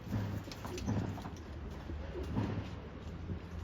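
Pigeons in a wire aviary give soft, low cooing calls in a repeating rhythm, several coos in quick succession, fairly faint against a quiet background.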